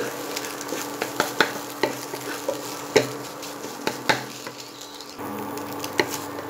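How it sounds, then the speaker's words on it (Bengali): An egg fries in hot oil for egg fried rice, giving a steady close crackle and sizzle with repeated sharp spatula scrapes and taps against the pan, with no talking. "ভালোভাবে ডিমটাকে ভেজে আমি তুলে নেব।"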